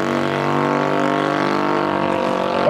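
A 2,000-horsepower drag race car engine runs loud and steady at a car show shootout, a sustained droning roar with strong harmonics that holds nearly constant throughout.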